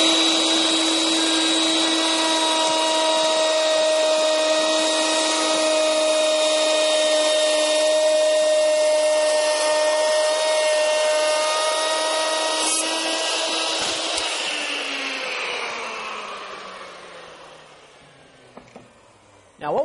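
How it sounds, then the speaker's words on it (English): A hand router cuts a dado for a bottom shelf in wood, a loud steady high-pitched whine that holds for most of the pass, then winds down as the motor spins to a stop. "I'm going to reverse the router around the other side here, and I'm going to go ahead and put the dado for the bottom shelf in"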